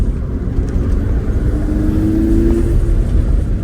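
Stock 2011 Volkswagen Golf R Mk6 on Michelin Pilot Sport 5 tyres driven hard through twisty corners, a steady low engine drone with a brief rising rev note, heard from inside the car.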